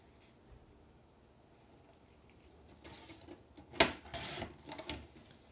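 Paper for a scrapbook album page is trimmed by a millimetre or two, giving a quiet stretch and then a few sharp scraping slices and clicks close by.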